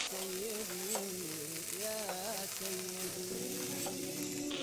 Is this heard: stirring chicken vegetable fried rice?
yes